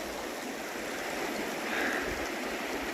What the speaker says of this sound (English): first look, Gila River.